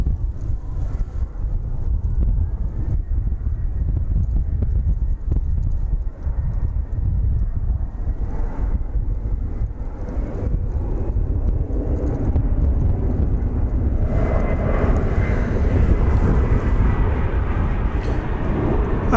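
Jet airliner taking off at DFW Airport, a steady, loud, rushing roar heard from a distance with heavy wind buffeting, rising in pitch and intensity toward the end.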